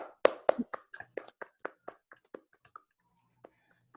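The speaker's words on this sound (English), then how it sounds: "can we all give the readers another round of applause?" A small audience at a poetry reading gives scattered applause, a quick burst of claps that thins out and fades to a few stray claps near the end.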